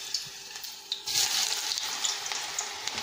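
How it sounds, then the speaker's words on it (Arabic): Eggplant slices dropped into hot oil, a sharp sizzle swelling after a brief clatter and then holding as a bright steady crackle, near and moderately loud, with no voices. "ونبدا نحطو يتقلى"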